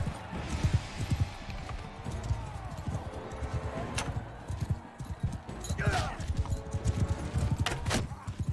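Horse hooves gallop in Mount & Blade combat, a fast rhythmic clip-clop with thuds and clashes under excited talk.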